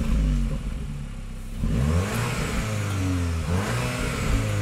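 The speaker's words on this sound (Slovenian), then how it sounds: "gre za najmočnejšo različico Formentorja s 310 konjskimi močmi" A Cupra Formentor with its 310 hp engine revs and accelerates through rising gear pulls, a loud close engine note climbing repeatedly in pitch with no talking.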